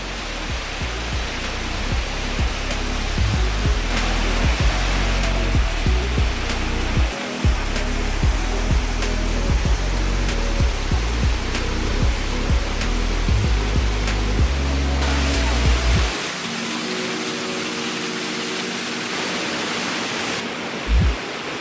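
Cachoeira do Poção, a waterfall in Miguel Pereira, roars in a loud, continuous broadband rush with no break across the whole stretch.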